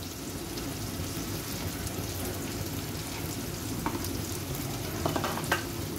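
Onions and spices frying in a pan as tomato puree goes in, giving a steady close sizzle with light stirring clicks and scrapes near the end, no voices.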